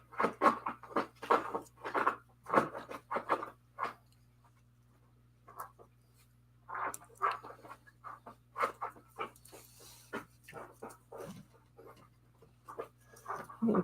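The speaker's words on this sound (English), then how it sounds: "You can hear Teddy down here fluffing his bed" Teddy, a dog, scratches and paws at a big dog bed under a desk, giving close bursts of rustling, scraping fabric sounds in uneven spurts with pauses between, heard alone.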